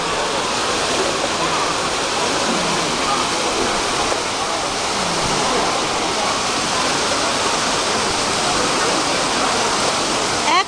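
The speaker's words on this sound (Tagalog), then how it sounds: "Ito yung place ng Fountain Trevi." Water of the Trevi Fountain in Rome pours in a loud, steady, broadband rush that fills the whole stretch, close and unbroken like a cascade, with faint crowd voices buried underneath.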